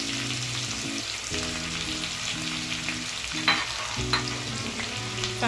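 Chopped onion frying and being stirred in oil with shahi jeera for a prawn pulao, with a steady sizzle and occasional scraping clinks from a spatula. A continuous tonal hum, likely background music, sits under it. No one speaks.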